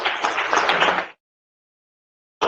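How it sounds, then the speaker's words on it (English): Brief burst of audience applause for Dr. McDonald at a freedom seminar, a dense wash of clapping lasting about a second before cutting to silence, then resuming at the very end. "Let's give him a round of applause here."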